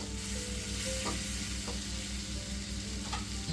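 Pasta is stirred with packet seasoning in a frying pan, a steady close sizzle with soft scraping strokes running throughout, with no talking.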